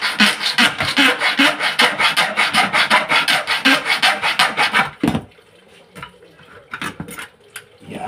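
A file rasps across an aluminum cabinet door frame in quick, even back-and-forth strokes for about five seconds, then stops, leaving a few faint scrapes and knocks.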